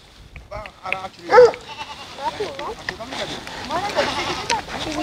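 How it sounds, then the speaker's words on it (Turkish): Large goats bleating at a herders' camp, several wavering calls scattered across the moment, fairly close, with a person talking over and between the animals. "Bunlar da büyük keçiler."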